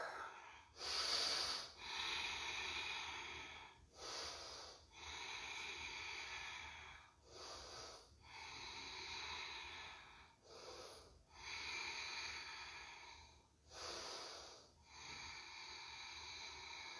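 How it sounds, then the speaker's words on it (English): Slow, deep breaths drawn through a held yoga balance pose, about five long inhale-exhale cycles in a steady rhythm, close and fairly soft with an airy hiss on each breath. "Let's take 5 breaths here."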